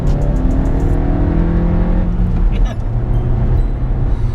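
Audi A1 1.4 litre turbocharged 140 bhp S-line engine, lowered on coilovers, driving on B roads: a loud close engine rising through revs in sweeping tones, easing off and pulling again, heard from inside the car.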